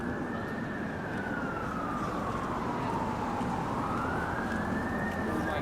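An emergency vehicle siren wails on a city street at night, its tone sliding slowly down and then back up. It sounds fairly loud and steady over a constant rumble of traffic.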